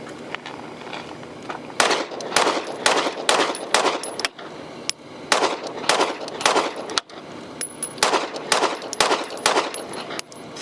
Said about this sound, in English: So I had all of them shoot a magazine with 115 grain first, then 124, and then lastly, my favorite, 147 grain 9mm.